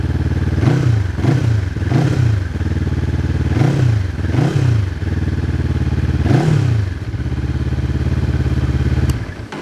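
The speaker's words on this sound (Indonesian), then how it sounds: "Bagaimana dengan suara motor ini?" A 400cc motorcycle engine tuned for a soft exhaust note, heard up close while idling and blipped in a series of about five quick revs, then one more after a pause, before settling back to idle.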